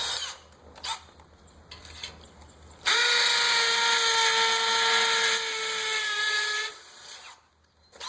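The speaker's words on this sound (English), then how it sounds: "Put my 1/4-inch bit back in and pre-drill the other two holes." Power drill fitted with a 1/4-inch bit pre-drilling holes while a custom wrought iron gate is installed, a loud steady whine that runs for about four seconds after quiet handling noises, then winds down.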